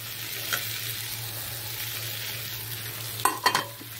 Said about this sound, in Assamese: মছলা ভাজা হৈ গৈছে, এতিয়া দি দিম কলখিনি